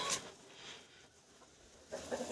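A turkey hen sitting on eggs in a poultry house gives soft, brief clucks, one near the start and a few more toward the end, faint over a quiet room.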